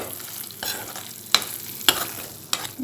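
Curry leaves rice with crushed peanuts stirred in a pan, a steady soft scraping and sizzle broken by three sharp clinks of the spoon against the pan, close and fairly quiet.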